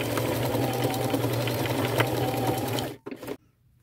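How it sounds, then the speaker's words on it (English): A sewing machine runs a zigzag stitch through thick layers of fabric, a steady close motor hum that cuts off with a couple of brief final bursts before quiet. "I'm going to use my zigzag stitch and I'm going to go over it a few times because that's a lot of fabric to get through"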